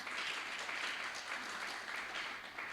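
An audience at a funder roundtable in Ghana claps to welcome the CEO of Impact Investing Ghana, producing steady, faint applause that continues evenly throughout without any voices over it.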